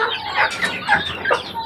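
Several hens clucking close by in short, repeated bursts, a busy chatter of fowl calls with no talking.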